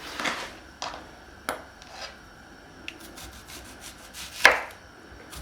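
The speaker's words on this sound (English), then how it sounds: "So you want to cut the onions round." Knife slicing onions into even rounds on a board for a sweet potato and ground beef casserole, giving several separate cutting strokes at an uneven pace, fairly close, with no talking.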